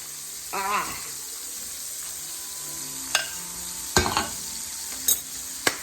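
Quiet, steady sizzling of blackened catfish frying in a pan, broken by a few soft clinks and splashes as serrano, garlic and lemon infused butter is poured on.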